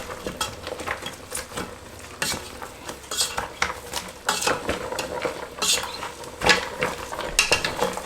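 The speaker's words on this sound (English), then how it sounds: "Stir it together, of course." A spoon scrapes and clinks around a pot as curry is stirred into egusi soup, a busy run of irregular scraping and tapping strokes, close and fairly quiet, with no talking.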